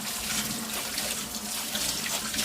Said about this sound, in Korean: 이제 이걸 다 씻어주고